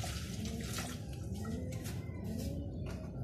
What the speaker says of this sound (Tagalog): Siyempre, lalagyan natin tubig.